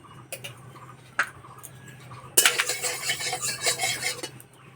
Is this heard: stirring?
yes